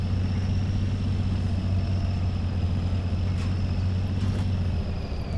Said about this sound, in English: Doesn't like me revving so high with such a big heavy fucking truckload.